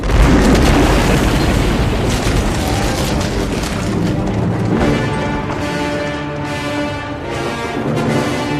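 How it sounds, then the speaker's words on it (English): A loud explosion from a scene in Star Wars: The Empire Strikes Back bursts out and becomes a dense, sustained rumbling roar lasting about nine seconds, with no talking. "I believe there's an explosion."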